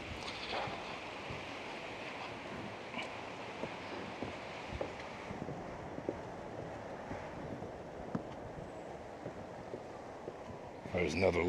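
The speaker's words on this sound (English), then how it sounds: "I apologize for the wind noise. We have 37 mile per hour gusts today." Strong 37 mph gusts blow into the microphone outside a two-story house in Palm Harbor, Florida, giving a continuous rough, buffeting roar with sharper bumps throughout and a heavier blast at the end.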